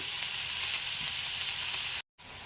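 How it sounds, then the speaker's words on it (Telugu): Onion pieces fry in a pan with a steady, close hiss of sizzling oil that cuts out briefly near the end before resuming. "ఉల్లిపాయ ముక్కలు అరంగా వేపారు."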